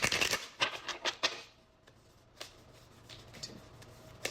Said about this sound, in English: let me shuffle some more